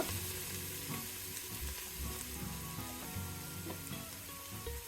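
Chopped onions, fried light brown, sizzle steadily in a pan as ginger garlic paste is added and stirred in, with scraping strokes over a continuous close frying hiss.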